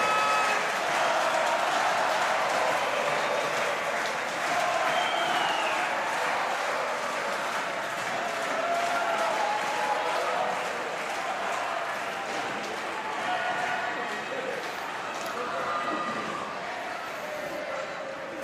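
A crowd at the South Paris Arena applauds after a para table tennis wheelchair doubles match, a long, moderately distant wash of clapping and cheering that slowly eases.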